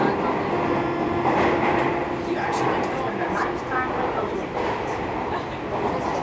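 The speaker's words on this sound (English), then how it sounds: "I was on this train to Roppongi to return the camera in due time." Steady rumble and hiss of a train ride to Roppongi in Tokyo, continuous and fairly loud throughout, with faint mechanical squeals and clicks over the running noise.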